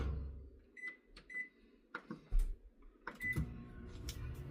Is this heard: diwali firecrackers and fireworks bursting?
no